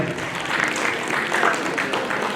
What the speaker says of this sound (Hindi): एक बार जोरदार तालियों के साथ अभिनंदन